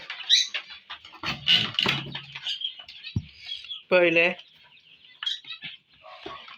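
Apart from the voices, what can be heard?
button quails in a hobby coop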